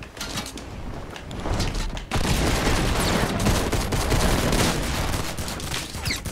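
Gunfire in the Fortnite video game, a dense, loud, continuous fusillade of rapid shots with a brief break near the start, then sustained bursts throughout, with no talking.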